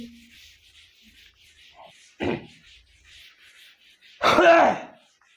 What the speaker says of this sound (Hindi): थोड़ा खांसी ओसी आ रही है, खोंक दे रहे, खेखा दे रहे हैं